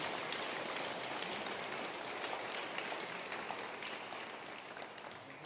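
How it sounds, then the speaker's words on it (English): A congregation claps inside Chester Cathedral, a broad, reverberant wash of applause that is sustained and slowly tapers toward the end. "Can we give her a big clap, please,"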